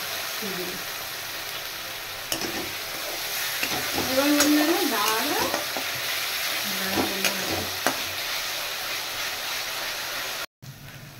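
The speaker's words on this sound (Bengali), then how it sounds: "মশলাটা ভাজা হয়ে গেছে।" Steady sizzling of spices frying in a pan, with stirring scrapes and a person speaking briefly over the hiss.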